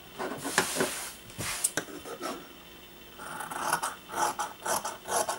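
Scissors snip and rasp through fabric, trimming away a white edge on bloomers material in a series of close, uneven crisp cuts.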